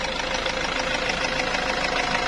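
A 2012 Toyota Hilux with a 2500 cc engine runs loud and close, a steady, even mechanical drone with rapid knocking pulses and no talk over it.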